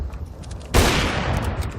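Pistol gunfire in a competitive video game shooter, a single loud, abrupt burst that leaves a sustained noisy rumble trailing after it.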